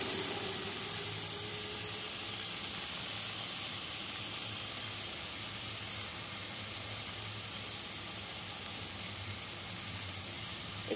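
Spice paste and tomato frying in a pan, a constant even hiss and sizzle, steady and close without pauses or talk.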